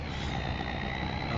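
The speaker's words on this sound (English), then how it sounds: "Can you hear the cars between the truck sounds?" Trucks in Farming Simulator 25 on the PV Rivers Remastered map produce a dense, steady engine rumble and broadband roar with a faint high tonal whine, continuous and close.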